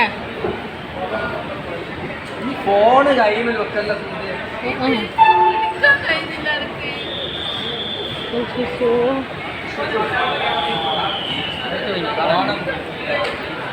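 Busy crowd chatter and babble fill Coimbatore railway station, with overlapping voices, shouts and a faint announcement tone amid steady background hubbub.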